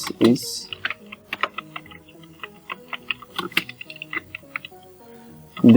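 Steady typing on a computer keyboard while entering HTML paragraph-tag code, a run of crisp key clicks in an uneven rhythm, with brief louder sounds at the start and end.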